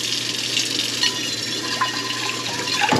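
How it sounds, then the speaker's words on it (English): Cold water runs steadily from a kitchen tap into a sink, a continuous close splashing gush that holds even for the whole stretch with no talking. "I'm gonna run some cold water so I don't melt my pipes with all this boiling water I pour down all the time."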